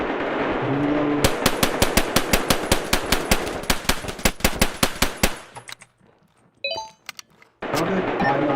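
A long rapid burst of automatic rifle fire in a shooter game, loud and evenly paced, ending in a short quiet gap with a faint reload click before gameplay noise returns.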